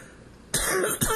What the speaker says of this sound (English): because I'm coughing too much